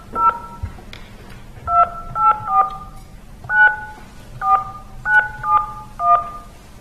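Telephone keypad dialing tones during a county committee meeting conference call: about a dozen crisp two-tone beeps in irregular clusters, clear and fairly close over a low background hum, with no talking.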